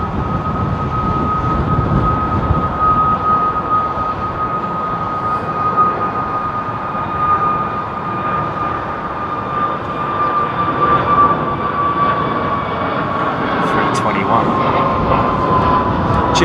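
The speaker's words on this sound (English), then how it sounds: "sounds like they are actually getting airborne quickly in this wind" Jet airliners taking off in strong wind at London Heathrow Airport: a loud, continuous roaring engine drone with a steady high whine, buffeted by wind noise throughout, with no one talking.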